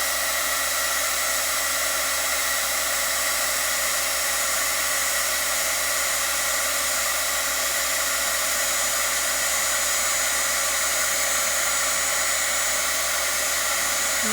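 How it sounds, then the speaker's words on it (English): Heat gun blasting hot air to melt small plastic glitter dots for a craft tag, a loud, steady hiss-roar that runs unbroken and close from start to finish. "I take my heat gun and I melt it"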